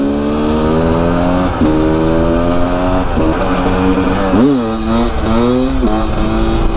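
A Beta RR300 motorcycle on a test ride, its engine loud and close, revving up and down in repeated rising and falling sweeps with no talking.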